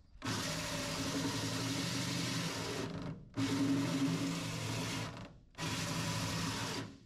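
A cordless impact driver with a small 1.5 Ah battery runs during a gooseneck hitch and air-bag install on a Ford F-350. It gives three sustained, close whirring bursts of about three seconds each, separated by short pauses, with no talk.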